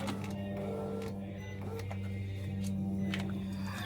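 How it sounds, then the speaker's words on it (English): The power window motor on a 2009 Nissan Xterra hums steadily at low volume as it raises the window, a close, continuous whine with a few small clicks, no talk. "So now I can bring the window up."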